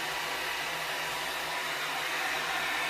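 A handheld hair dryer with a concentrator nozzle blows steadily on hair, a loud continuous airy roar with a faint motor hum, unbroken and without talk.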